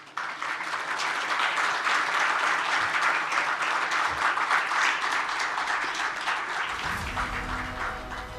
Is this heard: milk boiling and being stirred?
no